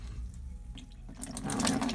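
Running water rinses out a Canon PG-240 / CL-241 refillable ink cartridge over a bucket, a close splashing flow that grows louder and fuller toward the end, no talking.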